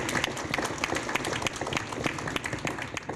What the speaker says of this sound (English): Should we give them a round of applause?